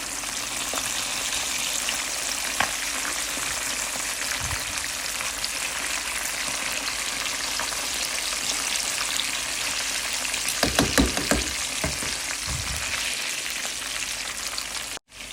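Chicken pieces for chicken tandoori fry in a pan with a loud, continuous sizzle, broken by a few dull knocks and scrapes of stirring toward the end.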